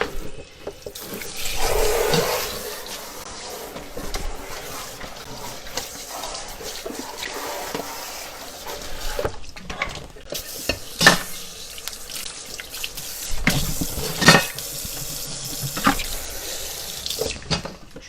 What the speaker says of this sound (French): Je suis désolée, je vous fais participer à ma vaisselle